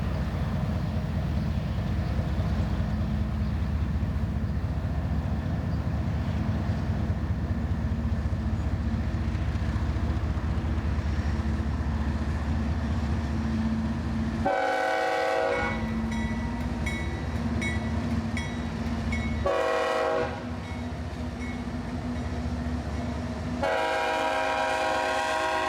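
A long freight train rumbles steadily past at close range, wheels and cars droning loudly, and its horn blasts three times in long bursts near the end at a busy rail junction in Chesterton.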